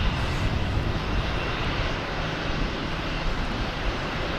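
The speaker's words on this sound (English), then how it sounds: "Loud JetBlue coming in for some action here." A JetBlue jet airliner comes in to land at Boston Logan Airport, filling the air with a loud, steady broadband engine roar that holds evenly throughout, with no voices over it.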